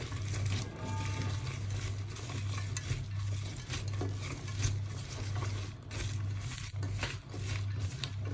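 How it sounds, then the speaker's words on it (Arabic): Chicken mixed with onions being stirred in a pan, a steady scraping churn with faint sizzling running through the whole stretch, close and continuous without speech. "وغادي نزيدها على البصل ونخلط مزيان"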